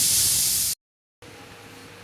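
Pressure cooker whistle on a stove, cooking capsicum and tomatoes for Mumbai-style pav bhaji, letting out a loud, sharp hiss of steam that cuts off abruptly, followed by quiet kitchen background.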